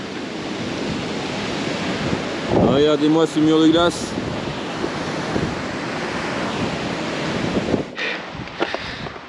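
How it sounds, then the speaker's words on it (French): Strong, steady wind gusts buffet the microphone on a high mountain pass in Tajikistan's Fann Mountains, a constant roaring rush with someone briefly speaking over it. "Et le vent est présent."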